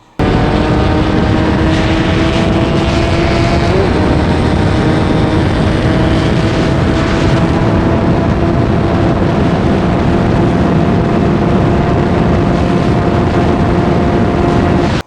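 A Suzuki Satria two-stroke motorcycle runs in fifth gear at about 94 km/h, giving a loud, steady, buzzing engine drone with wind rush. The tone holds almost constant after a slight early shift, and no one speaks.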